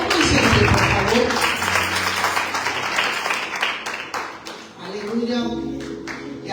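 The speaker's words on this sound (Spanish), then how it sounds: "yo quiero que le den un fuerte aplauso de nuevo" A church congregation breaks into loud, sustained applause, dense clapping filling the room while a voice talks over it and the clapping thins toward the end.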